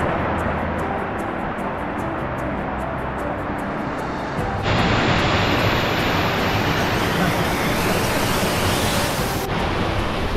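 Rushing water from the Dazhi waterfall cascade, a long slide fall on a canyoneering route upstream in Liugui, Kaohsiung, roars as a dense, steady wash that swells louder partway through and stays close and continuous.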